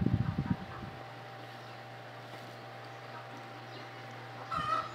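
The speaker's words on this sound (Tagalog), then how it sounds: "Meron doong kulungan ng manok. Maingay siya kasi nangingitlog." Laying hens clucking in a backyard coop with no rooster: a short burst of clucks at the start and another near the end, with a steady low hum in between.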